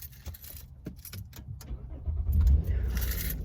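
Car keys jangle in a run of close metallic clinks and rattles, and then a low engine rumble swells up underneath them.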